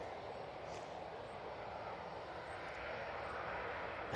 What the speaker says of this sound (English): Got this Ryanair now taking the intersection